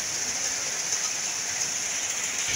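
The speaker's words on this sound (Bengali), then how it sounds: "অনেক জোরে বৃষ্টি পড়তেছে" Heavy monsoon rain pouring down on a flooded street with water standing inside shops, a dense, steady hiss that stays loud and unbroken without any voices.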